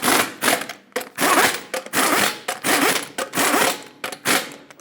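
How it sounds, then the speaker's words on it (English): On a 2005-2010 Chrysler 300, a torque wrench brings the lug nuts to 110 foot-pounds in a cross pattern: a close series of short, sharp ratcheting bursts, about two per second, with no voices. "and then also in a cross pattern, we'll torque them to 110 foot-pounds"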